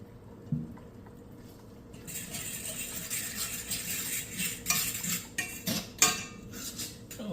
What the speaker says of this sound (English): just scrambling it in the skillet